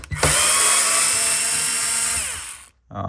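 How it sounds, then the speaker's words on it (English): A power tool whirs loudly while unscrewing screws on a Miele 6160/6360 washing machine, one steady high-pitched whine lasting about two and a half seconds before cutting off, heard close up with no talk. "It holds itself by 3 screws. Unscrew them and take it to the top."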